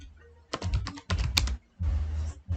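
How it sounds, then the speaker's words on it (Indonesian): Fingers type on a computer keyboard in three quick bursts of clattering keystrokes, close and crisp, separated by short pauses. "Jadi saya harus ngetik"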